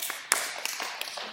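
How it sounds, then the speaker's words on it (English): A few scattered, half-hearted claps, sparse and uneven, quiet and brief, with no voices over them. "That was not enthusiastic applause"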